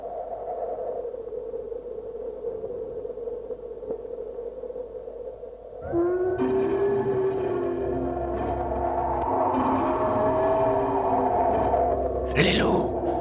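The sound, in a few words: wolves howling in an animated film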